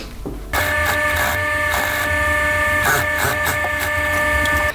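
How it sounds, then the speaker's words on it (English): Sewing machine top stitching through a rug backpack, a loud, steady mechanical whir running continuously after a short quiet start, close and alone. "I'm gonna top stitch it."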